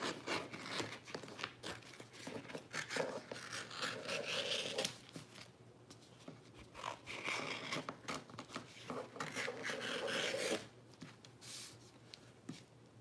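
Small children's-style scissors trimming sign vinyl, giving a run of close, dry snipping, rubbing and crinkling strokes in irregular bursts with short pauses, no voices.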